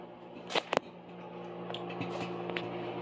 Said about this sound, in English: I can hear our popcorn popping in here.